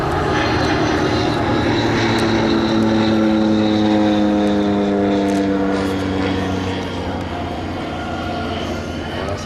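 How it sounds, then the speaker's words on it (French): An Antonov An-2 biplane from Switzerland drones past at an airfield, a loud, steady radial-engine and propeller roar holding strong throughout, slightly easing toward the end. "Cet Antonov 2 nous vient de Suisse"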